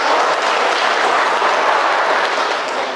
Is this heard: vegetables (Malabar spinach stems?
no